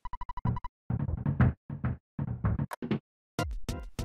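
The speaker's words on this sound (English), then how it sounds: "Someone's knocking at the door. What an annoying knock." Rapid knocking opens the scene at the door in Earthbound, a quick run of chiptune taps followed by chattering game text blips and sound effects.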